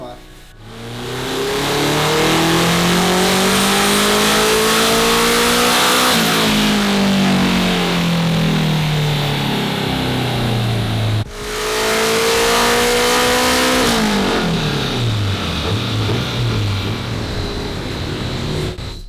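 A turbocharged K24 Honda Civic engine revs during tuning, rising in loud sweeping pulls, falling back, then climbing again after a brief cut, close and forceful, with voices talking over it.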